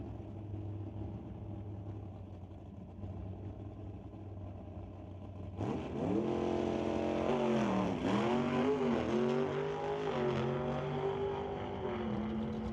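A 1995 Chevy Camaro drag car at a drag strip revs hard on and off the throttle, its engine pitch swooping up and down in repeated blips after a steady low idle rumble. The sound is loud and close.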